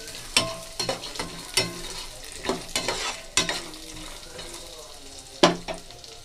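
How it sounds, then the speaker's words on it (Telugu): Spoon scrapes and stirs through puffed-rice snack frying in a pan with dried red chillies and crushed garlic, giving repeated sharp scraping strokes over a steady close sizzle, with no talking. "ఇందులోకి ఎండుమిర్చి ఇంకా క్రష్ చేసి పెట్టుకున్న వెల్లుల్లిని అయితే యాడ్ చేసుకొని మంచిగా మిక్స్ చేస్తున్నాను"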